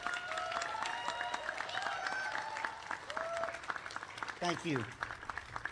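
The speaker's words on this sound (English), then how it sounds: "give them a round of applause for creating the show" Applause from an audience at a band show fills the space under a speaker's voice and some tonal music or feedback, with a brief thank-you spoken near the end.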